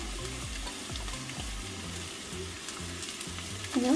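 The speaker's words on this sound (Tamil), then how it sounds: "நல்லா இப்படி வதங்கணும்" Carrots sizzle and fry in a hot pan, with soft stirring scrapes and a brief clatter near the end.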